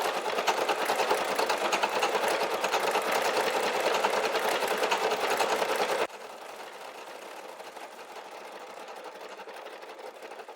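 A Brother SE1900 embroidery machine stitches an Easter basket design with a fast, even mechanical whir and rapid needle pulses, close and steady, then drops abruptly to a quieter, thinner running hum.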